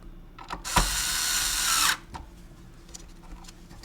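A power screwdriver drives screws into a Technics 1200 turntable: one close, whirring burst lasting about a second, framed by small clicks and handling taps.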